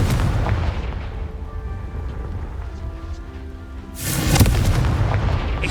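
Confringo spell explosions in the video game Hogwarts Legacy: a booming blast and rumble at the start, a quieter stretch with faint magical tones, then a second loud burst near the end.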